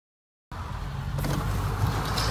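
A van's engine drones steadily through a race, starting abruptly after half a second of silence and holding a loud, continuous rumble with a brief rise in brightness partway through.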